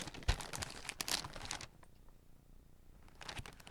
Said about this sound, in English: And let's unwrap.